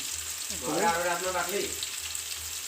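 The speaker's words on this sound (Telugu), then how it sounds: "ఇందులోనే టమాటాలు కూడా వేసేస్తాం ఉల్లిపాయలు మగ్గే కదా" Onions and tomatoes frying together in a pan while egg biryani is being made: a steady, close sizzle with faint stirring and a low background hum, with a voice briefly in the middle.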